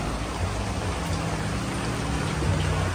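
Steady rain falls with a dense, even hiss, accompanied by a low rumble that continues without a break.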